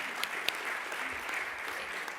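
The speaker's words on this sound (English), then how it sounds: "Another round of applause for Mayor Willie Brown" Audience at an education awards ceremony applauding, a short burst of steady clapping from many hands with a couple of sharper individual claps standing out.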